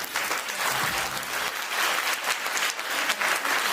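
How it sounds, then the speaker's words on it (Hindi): Audience in a hall clapping on cue, a steady loud burst of applause that swells and dips slightly across the whole stretch, with a brief voice or two underneath. "इधर वालों ताली बजाएंगे"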